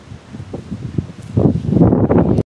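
Strong wind gusts at Junbesi while a broken-down vehicle waits, rushing and buffeting close to the microphone and growing louder in the second half before stopping abruptly.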